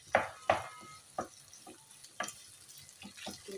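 Chopped medium tomatoes go into a pan of browned onions and masala, giving a few soft wet sizzles and stirring scrapes that fade to a quiet frying crackle.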